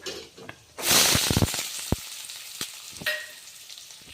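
Onions frying in a pan with cumin, mustard seeds, urad dal and peanuts: a loud burst of sizzling as they hit the hot oil, settling into a steady crackle broken by scraping stirs.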